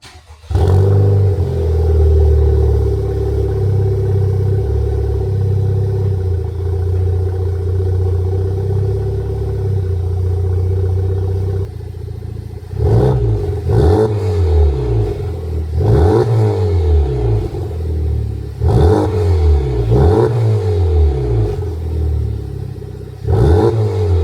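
Honda Civic Type R FL5 with HKS, Cusco, PRL and GruppeM upgrades and a Flashpro tune: a steady loud engine drone gives way to repeated hard revving pulls, several rising sweeps through gear changes, close and alone.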